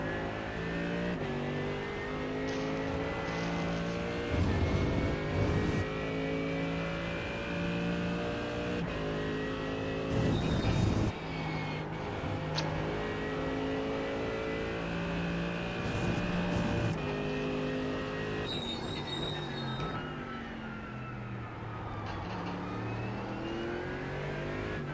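A BMW race car engine at Silverstone during race night, revving hard with its pitch sweeping up and down through the gears. The sound is loud, close and continuous, with no talk.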